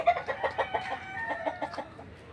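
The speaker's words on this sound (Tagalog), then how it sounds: "inaalagaan ko yung mga manok natin" Chickens clucking in a quick series of short calls, fairly close, with a few higher squawks mixed in.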